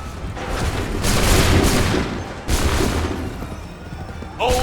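Musket volleys ring out in Assassin's Creed III, heavy massed booms and crackling gunfire rolling across the whole stretch, with a sharp fresh volley partway through and shouting voices underneath.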